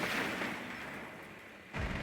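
Gunfire in the tactical shooter Rainbow Six Siege: muffled, distant-sounding shots and booms in a competitive esports match, a dense roar that fades and then surges again near the end.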